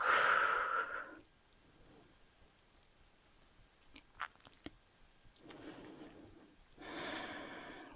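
Slow, audible breathing during a gentle beginner arm-and-shoulder yoga exercise, a soft breathy exhale near the microphone at the start and another toward the end, with faint clicks and rustles between, no talking.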